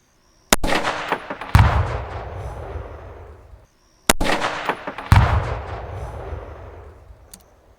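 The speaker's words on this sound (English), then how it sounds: "You see an explosion, and then about a second or so later, it shakes the ground." Two rifle shots from a 6.5 Creedmoor CMMG Endeavor AR10 at long range, each followed about a second later by a heavy distant boom from a detonating two-pound tannerite target, the rumble decaying slowly before silence.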